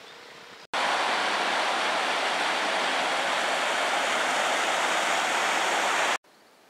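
A river flows beside a forested mountain trail in Higashi-Hiroshima, giving a steady, loud rushing wash of water that cuts in abruptly and runs unbroken for several seconds.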